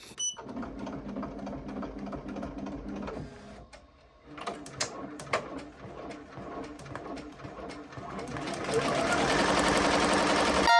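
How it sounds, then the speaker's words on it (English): An embroidery machine stitches a laundry bag with a steady mechanical whir and rapid needle chatter, briefly pausing mid-run before resuming louder and denser toward the end, close by. "we're ready to start embroidering"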